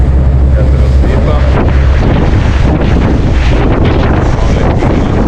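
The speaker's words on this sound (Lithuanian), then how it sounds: "Vėjas pučia." Strong wind blows at dawn near the coast on a ferry crossing to Sweden, a loud continuous buffeting roar across the microphone with low rumble throughout.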